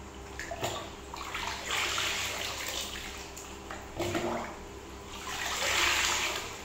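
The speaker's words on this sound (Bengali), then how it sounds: "দেখি একটু জল ঢালো।" Water splashes and pours in short bursts into a tub, with faint gurgling in between, fairly quiet and close.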